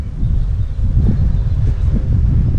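Warm wind blows across Scout Lake in spring, with trees in full leaf. It makes a continuous, loud buffeting rumble against the microphone and nobody speaks.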